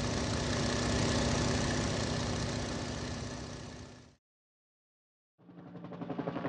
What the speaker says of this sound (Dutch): Tweedekker.